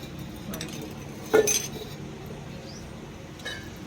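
A cooking pot is set on the stove and ghee is added for a village-style okra dish, giving a few sharp metallic clinks, the loudest near the middle and another toward the end, over quiet background noise.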